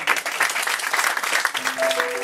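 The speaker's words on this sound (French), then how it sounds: "On les applaudit très fort." An audience at a tribute evening of poetry and performance breaks into warm, dense applause that holds steady, with a brief tonal note from music or feedback rising near the end.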